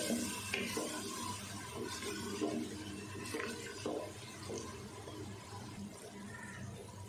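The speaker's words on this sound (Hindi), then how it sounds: "थोड़ा सा पानी ज़रूर आप डालते जाएं मसाला भूनते हुए।" Steady hiss and gurgle of water hitting a hot pan of frying spices for masoor dal, with faint stirring scrapes throughout; no voices.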